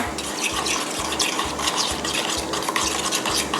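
A fermented soybean sauce mixture with sugar and ground pepper being stirred for steamed tilapia, a continuous wet scraping and mixing sound with a regular repeating rhythm, close and fairly loud.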